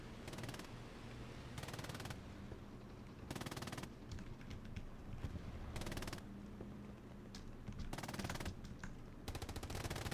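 Bursts of machine gun fire in a tank video game, several rapid rattling volleys separated by pauses, loud and close over a low engine rumble.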